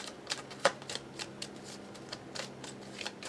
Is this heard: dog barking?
no